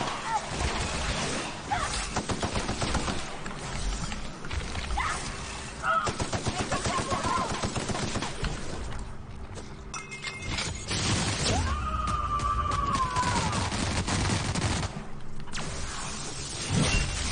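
Gunfire in the video game The Outer Worlds: bursts of shots and rapid automatic fire mixed with game effects, fairly quiet and busy, with no pauses between the shots.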